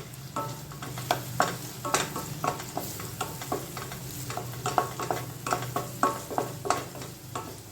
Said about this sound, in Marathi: हे छान परतून घ्यायचं आहे आपल्याला